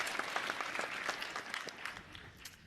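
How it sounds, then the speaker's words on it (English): An audience at a commencement ceremony clapping for an honoree, a short, fairly distant run of scattered applause that thins out toward the end. "Yeah, you can clap for Maureen Rutgers."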